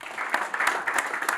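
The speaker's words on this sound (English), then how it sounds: "Another round of applause for them," An audience at a digital health panel discussion applauds the panelists, a brief, faint, even wash of many hands clapping with no one talking.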